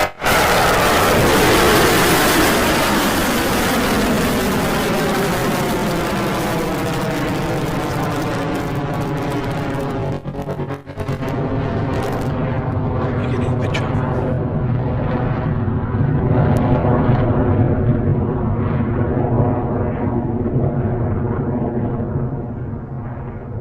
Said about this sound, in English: we're off the pad for our 8th Electron launch